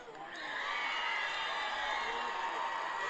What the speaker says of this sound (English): Heard a lot of cheering on this side.